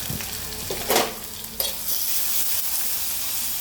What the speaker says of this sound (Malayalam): എന്നിട്ട് നമുക്കൊരു 10 അല്ലി വെളുത്തുള്ളിയും ഒരു 10 അല്ലി കുഞ്ഞുള്ളിയും ഒരു കുഞ്ഞ് ഇഞ്ചിയും കൂടെ ചതച്ചെടുത്തതാണേ. അത് നമുക്കൊന്ന് മൂപ്പിച്ചെടുക്കാം.